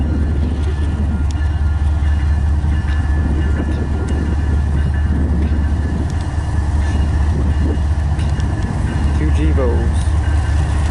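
A freight train rolls along the rails nearby, a loud continuous rumble and clatter of cars with a steady low engine drone, while people talk over it throughout.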